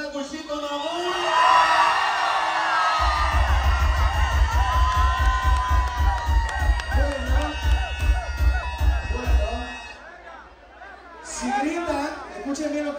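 An audience at a live entertainment show shouts and cheers loudly, with a thumping beat running through the middle. A voice speaks over the crowd.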